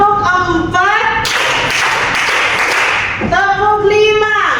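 Students in a classroom clap out a counted four-clap pattern, a loud flurry of overlapping palm strikes framed by a teacher talking before and after.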